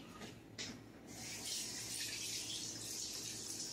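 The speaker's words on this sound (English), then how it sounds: "I'll go rinse my hands off." Water runs steadily from a tap as hands are rinsed, a soft continuous splashing hiss that builds after a brief start and holds close by without any talk.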